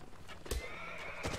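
A horse in the Mount and Blade Warband battle game neighs and clatters, with a sharp whinny burst and hoof thuds over a constant background din, fairly quiet.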